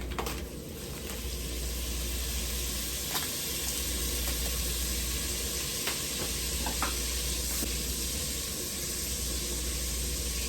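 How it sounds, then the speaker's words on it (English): Butter melts in a pan for Southern candied yams, giving a steady, close sizzle with faint crackles and no talking. "We're going to allow the butter to melt."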